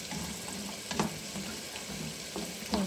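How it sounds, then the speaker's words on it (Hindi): Dry fruits fry in melted ghee in a pan while making carrot halwa, giving a steady soft sizzle close by with a few brief louder crackles and stirring scrapes, and no talk. "अब मैं ड्राई फ्रूट्स ऐड करने वाली हूँ। इनको मैं फ्राई करूँगी।"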